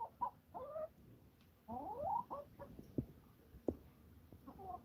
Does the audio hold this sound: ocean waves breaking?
no